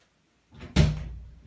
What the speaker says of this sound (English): let me open the door for him